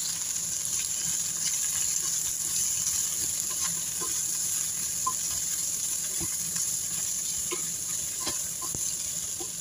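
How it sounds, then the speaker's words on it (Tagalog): Spices and black pepper being sautéed in a pan for a vegetable dish, a steady, close sizzle and fry that runs throughout with occasional soft stirring clicks, no talking. "At haluin natin para maigisa din yung spices niya."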